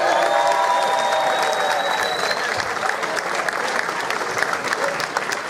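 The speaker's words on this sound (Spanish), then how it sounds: "Quiero que un aplauso grande" Sustained applause from a large audience at an urban music festival, dense and loud throughout with crowd noise and a faint whistle early on.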